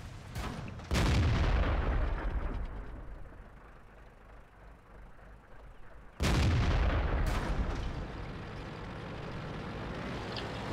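Tank cannon fire in World of Tanks: two heavy booming shots about five seconds apart, each a loud sharp blast followed by a long rumbling decay, with engine rumble in between.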